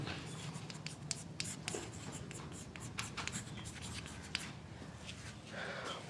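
Chalk or marker writing on a classroom board during a Hindi-language English grammar lesson, a steady run of faint scratchy strokes and taps over a low background hum, with no voices.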